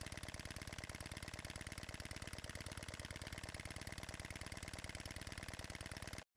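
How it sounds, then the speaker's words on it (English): Model horizontal steam engine running on compressed air after timing, a rapid, perfectly even stream of close mechanical beats that stops abruptly at the end, with no voices. "This clip shows the engine running just after timing it."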